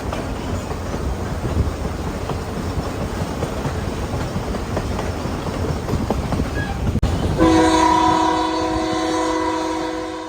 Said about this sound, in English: Train horn even got the horses running.